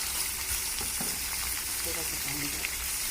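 Chicken and onions fry in about two tablespoons of oil in a karahi for a white chicken karahi, a constant close sizzle with faint stirring and scraping clatter underneath.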